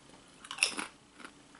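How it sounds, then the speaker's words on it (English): Lay's Lattice Cut Aged Cheddar & Black Pepper potato chips crunch up close in a few sharp, crisp bites separated by quiet pauses, with one last crack at the very end. "Once again, these are extremely crunchy potato chips."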